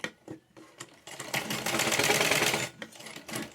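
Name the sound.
sewing machine stitching a Patiala pajama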